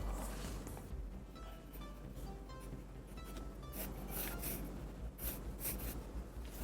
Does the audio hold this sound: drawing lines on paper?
yes